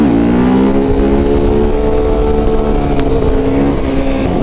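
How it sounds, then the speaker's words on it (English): A large group of motorcycles riding together on the road, a loud, continuous engine drone with layered tones and slowly shifting pitch, heard close up. "It's probably the biggest group ride I've been on."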